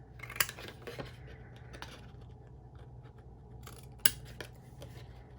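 Scissors cut through a paper caramel apple treat holder, producing a few crisp, close snips with quiet paper rustling in between.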